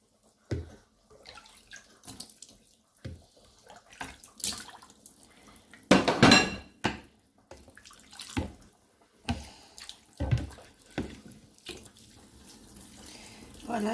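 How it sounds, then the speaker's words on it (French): Salted water poured onto couscous grain in a kitchen, heard as close, irregular splashes and trickling bursts of liquid with short gaps between them over several seconds. "Commencer à mettre l'eau que j'ai salée auparavant."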